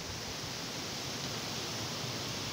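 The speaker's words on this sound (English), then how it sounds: "Oh, really windy now." Strong wind blowing outdoors at night, a steady, dense roar of broadband rushing air that stays loud and unbroken throughout, with no voices.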